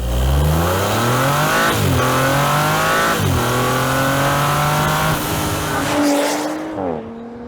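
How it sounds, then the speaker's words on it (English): A 2022 Audi RS5 Sportback accelerates hard, its engine and exhaust howling upward through several lightning-quick upshifts with blips between, before easing off at the end. "that grin-inducing howl from the exhaust"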